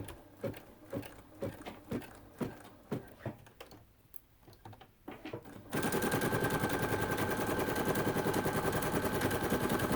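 Embroidery sewing machine stitching a tack-down line on fabric, with rapid mechanical needle bursts in short clusters that give way to a steady, loud continuous stitching whir.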